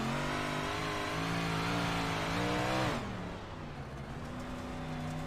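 Big block modified dirt race car engine lapping the bottom groove through turns 3 and 4 at Weedsport, heard loud from onboard, revving high then dropping sharply as the driver lifts, then settling to a lower drone.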